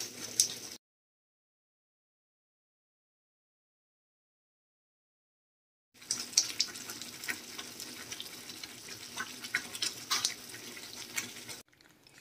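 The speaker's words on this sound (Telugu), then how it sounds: "సో ముక్కలు మొత్తం బాగా ఉడుకుతున్నాయి" Drumstick curry (mulakkada pulusu) bubbles in a pot at a steady simmer, heard briefly at the start, then after a long silent gap it returns as a continuous close boil with faint liquid pops.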